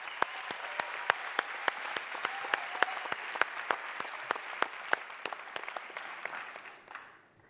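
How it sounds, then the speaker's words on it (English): A plenary session audience at a youth summit claps to welcome a speaker, with sharp, evenly spaced loud hand claps over steady crowd applause that fades out near the end. "let us please all put our hands together to welcome Malongabong"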